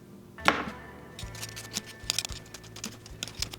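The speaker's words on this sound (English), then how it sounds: "I'm gonna start by chopping these chives." Quick knife taps on a cutting board chopping chives, a rapid irregular series of light chops close up after one sharper knock.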